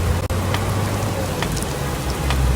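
Heavy rain pours steadily over a valley in Hail, Saudi Arabia, with hail mixed in, making a dense continuous hiss with occasional sharper hits close by.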